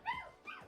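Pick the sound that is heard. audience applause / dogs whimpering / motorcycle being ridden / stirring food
dogs whimpering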